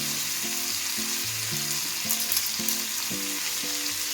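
Horse gram gravy masala sautés in a pan with a constant, dense sizzle heard up close. Light background music plays along, and no one speaks.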